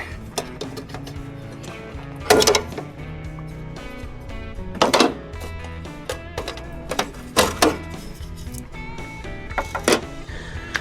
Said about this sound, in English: you're simply going to want to just pop these light housings out